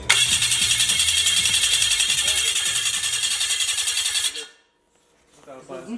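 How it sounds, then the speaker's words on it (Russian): The outboard motor of a home-built flying boat is cranked in a garage on its first start attempt: a loud, rhythmic mechanical chugging runs for about four seconds, then cuts out abruptly before a voice speaks. "Сейчас будет первый запуск мотора."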